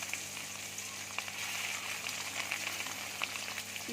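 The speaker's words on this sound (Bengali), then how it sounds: "এবার আমি ডিমগুলো ভেজে নিচ্ছি।" Steady crackling sizzle of eggs frying in hot oil, close and continuous, with scattered pops and spatters throughout.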